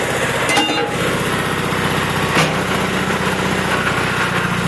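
A 1983 John Deere 318 garden tractor engine idles steadily close by, a constant buzzing rumble with fine rapid pulsing, broken only by a couple of brief clicks.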